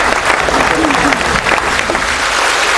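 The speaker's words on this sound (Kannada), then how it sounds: "ಚಪ್ಪಾಳೆ ತಟ್ಟಬಹುದು." An audience at a live stage comedy show claps in sustained, loud, even applause from many hands, with voices faintly mixed in beneath it.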